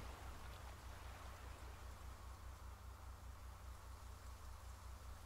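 Rain falling steadily in the video game Flame in the Flood, a faint, even hiss of constant downpour with no voices.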